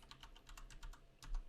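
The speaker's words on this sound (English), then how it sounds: "you need to type in a registration" Quick, light clicks of a computer keyboard as a vehicle registration is typed in, a brisk irregular tapping of several keystrokes, faint and close, with no speech.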